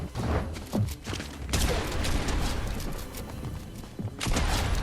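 Shotgun blasts in a shooter game, several heavy booming shots in bursts with short gaps, loud and close, with game noise between them.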